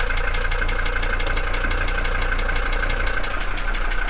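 An old Mercedes that sat in a garage for twenty years idles roughly, a steady low rumble with a rapid ticking knock running through it, close and fairly loud with no talking.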